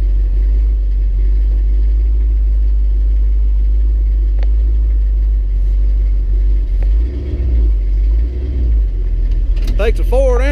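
A Ford truck and a Chevrolet truck pull a stuck firewood train loose with a deep, steady engine rumble that surges briefly as they strain. A voice is heard near the end.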